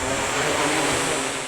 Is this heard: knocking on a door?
no